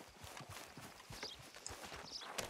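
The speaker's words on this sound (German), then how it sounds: "Ja, es ist ja ein Pferd hier." Quiet, rhythmic clip-clop of horse hooves walking at an even pace in Red Dead Redemption 2, with a faint whinny-like sound in the background.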